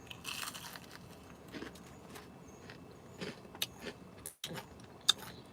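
Crunchy fried fish is bitten and chewed close up, with irregular faint crunches and crackles spread across several seconds and no talking.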